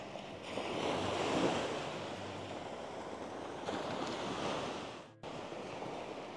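Surf washing onto a small beach on Koh Kradat island in Thailand, a steady broadband roar of waves swelling and easing, close and fairly loud with wind rushing over the microphone and a brief dropout near the end.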